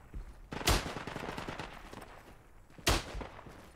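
Two sharp, loud gunshots stand out in the video game Isonzo, separated by a stretch of rapid, crackling fire in between, with no voices.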